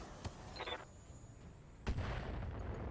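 Weapons fire in the RogueTech BattleTech video game, with a sharp early shot, a few clicks and a heavy boom that sets off sustained rumbling battle noise.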